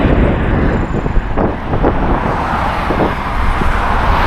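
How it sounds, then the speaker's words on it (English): Steady roar of traffic on a busy road heard while riding a bicycle, with wind buffeting the microphone and a few vehicles swelling past, continuous and fairly loud with no talk. "So I'm riding here along this busy road."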